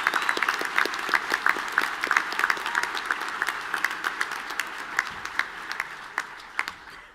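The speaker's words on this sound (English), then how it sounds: "Could everyone please give our graduating class a round of applause?" A large audience applauds a graduating class at an art, music, theatre and dance ceremony, a full, sustained round of clapping with some sharp claps standing out near the microphone, tapering slightly toward the end.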